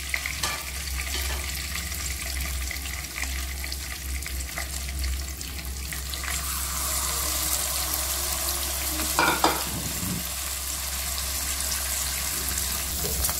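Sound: mackerel fish frying in a pan

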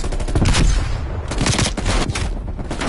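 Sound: flashbang grenade going off

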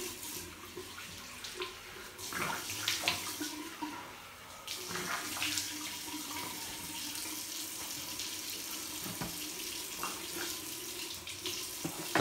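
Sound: water splashing while rinsing the face

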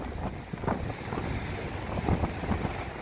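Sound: storm waves crashing under beach houses with wind

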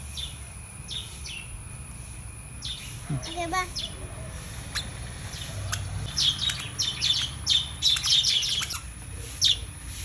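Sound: pet bird chirping

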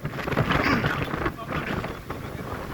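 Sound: strong wind

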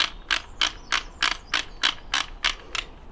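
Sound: screwing the fore-end cap onto a Browning Maxus II shotgun

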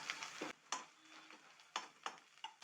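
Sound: ginger frying in oil

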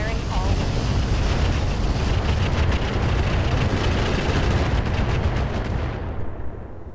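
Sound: mech firing all weapons in video game Roguetech

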